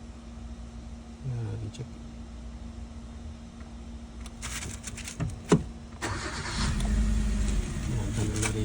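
A Kia car engine cranks and starts, then settles into a rough, uneven idle close by. Speech runs over the engine noise.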